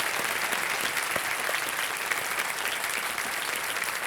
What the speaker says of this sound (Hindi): एक बार तालियां बज जाएं खुशबू जी के लिए